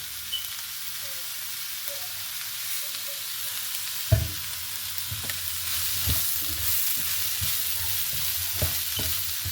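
Chopped onion with a little salt sautés over a low flame in a pan. A steady close sizzle hisses throughout, broken by a series of distinct spatula knocks and scrapes against the pan.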